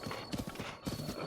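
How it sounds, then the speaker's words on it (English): Horse hooves clip-clop at a steady, unhurried pace in The Legend of Zelda: Breath of the Wild, a close, even rhythm of game footfalls with a faint whinny-like tone underneath. "The horse is a bit slow at moving."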